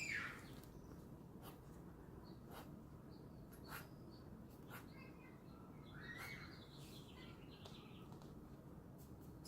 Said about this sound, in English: so you could hear the birds chirping as well as little kids screaming.